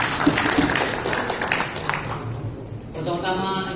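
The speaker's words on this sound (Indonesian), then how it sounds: "Saya minta tolong tepuk tangan dulu." An audience at a forum inauguration ceremony in North Sulawesi claps in a burst of applause that fades after a couple of seconds, and a voice then speaks.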